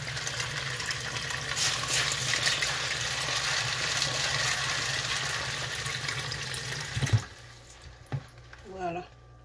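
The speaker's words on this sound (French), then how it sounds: "Je vais y ajouter de l'eau pour le faire mariner jusqu'au lendemain." Water pours steadily from a tap onto soaking beans for bean patties, a dense, continuous rushing that runs for several seconds and then cuts off, leaving a few faint drips and clinks.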